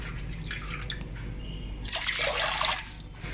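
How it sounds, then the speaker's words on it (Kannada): Water poured into a pot, three cups measured out for a cornflour sweet, a short close splashing pour swelling midway then tapering off, with no voices. "3 ಕಪ್ಸ್ ನೀರು ತೊಗೊಂಡಿದ್ದೀನಿ"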